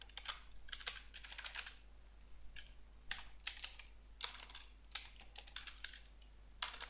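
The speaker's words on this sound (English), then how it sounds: "I cannot type and do this at the same time." Typing on a computer keyboard comes in quick bursts of light clicking separated by short pauses, close but quiet over a faint steady hum, with no talking.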